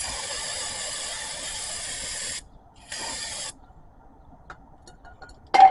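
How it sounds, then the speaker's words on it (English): Two bursts of hissing aerosol spray, the first long and steady, the second shorter after a brief pause, followed by quiet and a sharp clatter at the end. "Give it one last spray."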